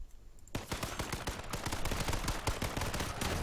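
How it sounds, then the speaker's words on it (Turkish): Rapid gunfire fills an online video game shootout in which a player is killed by a shotgun, a dense, loud barrage of sharp cracks that runs almost without a break after a short quiet opening. "Öldüm pompalıyla vurdu."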